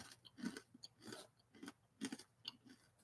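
Someone chews freeze-dried banana with a dry, crunchy texture, giving soft, close crunches and bites in an uneven rhythm, about five or six in three seconds, quiet and alone without talking.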